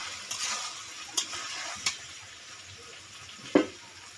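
Chicken curry in a pot is stirred, with soft intermittent spoon scrapes and knocks against the pot over a low simmering hiss.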